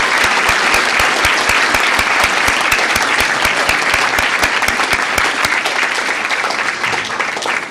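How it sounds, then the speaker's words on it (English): Loud, sustained applause from a school board meeting audience, dense steady clapping that fills the room and tapers slightly at the end. "Real quick round of applause for this group of"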